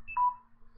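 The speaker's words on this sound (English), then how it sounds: "Phone's dying on me, I don't know why." A phone gives a short electronic beep, a single clear tone lasting a fraction of a second, warning of a dying battery during a live graphics stream.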